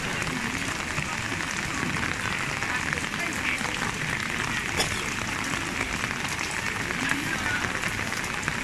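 Steady rain falls throughout a morning alms giving ceremony in Luang Prabang, Laos, a dense, even hiss of drops on surfaces with faint background activity and no clear speech.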